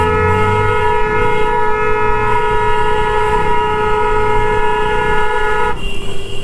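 A loud, sustained vehicle horn blares continuously on a road in Uttar Pradesh during a motorbike ride, with a low rumble of traffic beneath it, before the tone shifts near the end; no one speaks.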